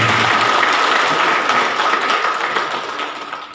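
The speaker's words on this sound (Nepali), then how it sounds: "अझै जोडले ताली" A large audience claps steadily and loudly at a Nepali book-launch ceremony for a lyricist's song collection, the dense applause holding throughout and tapering slightly toward the end.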